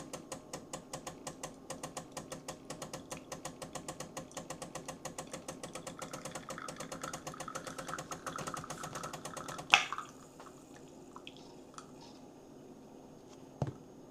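A Gaggia Classic Pro espresso machine's vibratory pump buzzes in a fast, regular pulsing rattle that builds for about ten seconds, then cuts off abruptly, leaving near silence and a lone click.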